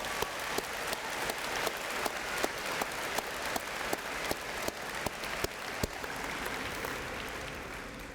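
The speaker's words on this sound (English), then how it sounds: "ask all of you to give them a nice round of applause, please" Sustained applause from a school graduation-ceremony audience honoring law enforcement officers, dense steady clapping filling the hall throughout, with occasional sharper individual claps standing out.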